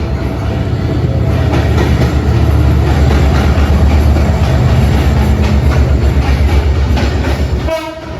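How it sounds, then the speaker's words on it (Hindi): A Bangladesh Railways train, a metre-gauge Indonesian-built rake, passes close on the adjacent single-line track while another train waits. Loud, continuous rumble and wheel clatter fill the whole stretch, with a brief horn-like tone near the end. "बगल से क्रॉस हो रही है कोई ट्रेन, देखो अभी आने वाली है"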